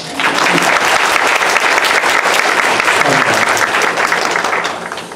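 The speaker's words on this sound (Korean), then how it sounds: "박수 한번 칠까요?" A church congregation at a graduation service breaks into applause, loud dense clapping that swells quickly, holds steady for several seconds and then starts to fade.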